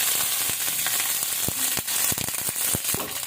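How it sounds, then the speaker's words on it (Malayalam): Mustard seeds, dried red chilies and curry leaves fry in hot oil with a loud continuous sizzle, broken by sharp crackling pops from the seeds, close and with no voices. "കടുകും വറ്റൽമുളകും കറിവേപ്പിലയും ഇട്ടിട്ട് വറുത്തിടാം"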